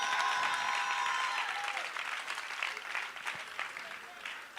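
An audience breaks into loud applause, a dense clapping that starts strong and gradually thins and fades over a few seconds.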